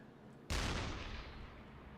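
A U-boat deck gun fires at an enemy merchant ship in the submarine game Uboat: one sudden, loud, close blast with a long rumbling decay that fades slowly over the following seconds.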